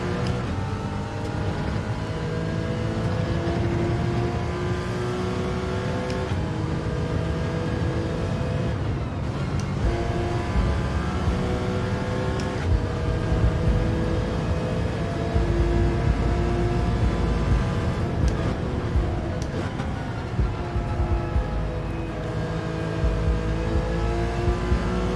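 A Ferrari race car engine in Gran Turismo 7 accelerates hard, its loud steady whine climbing through the revs with brief dips at gear shifts, sounding alone throughout.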